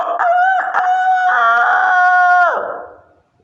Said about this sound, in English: the cock crows